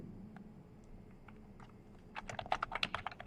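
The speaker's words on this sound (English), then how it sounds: "you guys should be able to see it when I'm typing" Keys on a computer keyboard clatter in scattered taps at first, then a quicker, louder run of keystrokes near the end, close and without speech.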